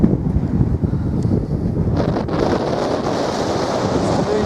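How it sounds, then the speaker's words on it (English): Strong wind buffets a mountain summit in Snowdonia, a loud, continuous roar of gusts battering the microphone with no break throughout. "Wind's picked up now"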